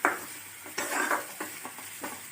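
Chopped tomato and small pieces of raw green chilli fry in a pan for potato pitika, soft sizzling broken by repeated stirring and scraping strokes, close and moderately quiet.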